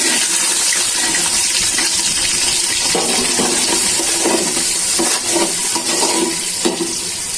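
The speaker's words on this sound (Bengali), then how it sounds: "এলাচি, দারচিনি, তেজপাতাটা ভাজা হয়ে গেছে। সাথে দিয়ে দিচ্ছি পেঁয়াজ কুচি।" Chopped onion frying in oil with cardamom, cinnamon and bay leaf for nehari, a loud, steady rushing sizzle with a few clunks of stirring toward the end, no talking.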